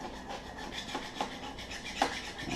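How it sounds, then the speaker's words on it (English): Hand deburring of set-screw marks on a steel brake drum for an LLC Quadra Sprint, giving repeated close rasping, filing strokes in a steady back-and-forth rhythm, moderately quiet with no talking. "remove these burrs"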